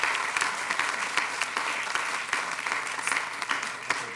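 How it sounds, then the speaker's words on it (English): A county commission audience applauds a proclamation honouring a doctor in Fulton County, Georgia, with close individual claps standing out over a steady round of clapping that carries on throughout. "a round of applause."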